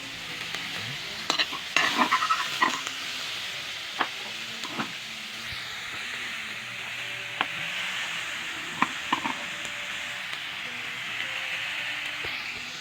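Pork cooking in a pot for lagang baboy, stirred with a utensil: a steady sizzling hiss runs throughout, punctuated by several sharp scraping and clinking knocks spread irregularly across the clip, with no talking.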